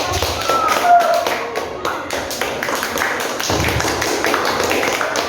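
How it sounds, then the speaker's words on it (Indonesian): Classroom participants clap together during a lesson session, a loose burst of hand claps with sharp individual taps mixed into a continuous patter, fairly close and loud, with some voices murmuring underneath. "silakan beri tepuk tangan untuk pertanyaan"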